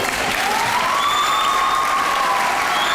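A crowd at a sixth grade graduation ceremony gives steady, loud applause for about three seconds, dense and unbroken with a faint tonal whistle running through it.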